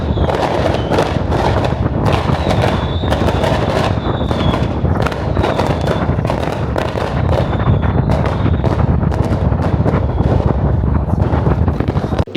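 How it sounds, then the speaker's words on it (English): Fireworks and firecrackers go off in the Chinese countryside in a loud, relentless string of sharp cracks and thuds, some whistling, with gusts of wind buffeting the microphone throughout. "Since we're in the countryside, there are so many fireworks going off."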